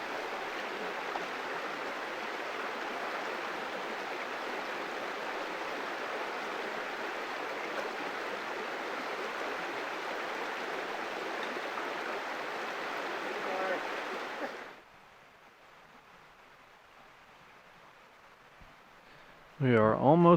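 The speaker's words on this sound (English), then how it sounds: "I'm really enjoying walking next to the river." A small river flowing upstream of a waterfall on a hiking loop, a steady broadband rush of water that holds for about fifteen seconds, then drops away to near quiet before a brief burst at the end.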